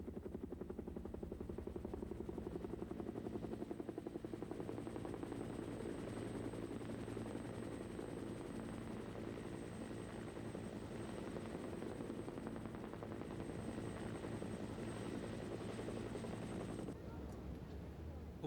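A military helicopter, apparently in Korea, runs continuously with a rapid rotor chop and a steady engine drone, loud and close, before dropping off abruptly near the end.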